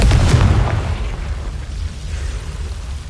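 A Confringo blasting spell explodes in the Hogwarts Legacy video game, a loud, deep boom right at the start that rolls and fades into a rumbling tail.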